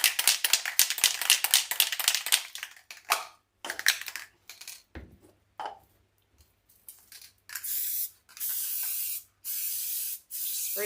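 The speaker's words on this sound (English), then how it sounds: "Spraying the back of the horse with this spray adhesion." Repeated bursts of hissing Elmer's spray adhesive from an aerosol can onto a horse-shaped board, short rapid puffs at first, then longer steady sprays separated by brief pauses, close and fairly loud.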